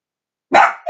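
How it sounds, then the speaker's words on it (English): A small dog lets out one sharp, loud bark nearby after a stretch of silence, then starts a second short yip just as the sound cuts off. "And you little dog over there with the big mouth, come here."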